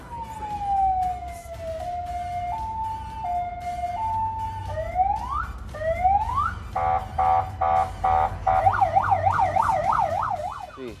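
Electronic siren on a Ghostbusters-themed car, loud and close, cycling through stepped wails, rising sweeps, rapid pulsed bursts and fast warbling yelps.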